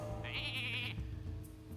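A single sheep bleat rings out in the Hearthstone card game as a Polymorph spell turns a Lord of the Arena minion into a sheep, short and quavering over quiet in-game background sound.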